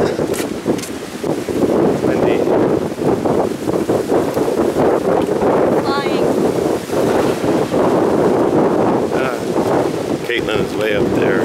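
Strong wind by the ocean buffets the microphone in loud continuous rumbling gusts, with people talking over it and the surf faintly beneath.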